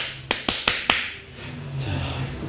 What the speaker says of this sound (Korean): 마이크 테스트. 박수 한번 치고.